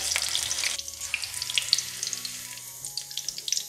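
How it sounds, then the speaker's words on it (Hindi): Slit green chillies fry lightly in hot oil, giving a close bubbling sizzle with a cluster of sharp crackles and pops, and no voices. "तो हम तीन चार हरी मिर्चों को तलेंगे"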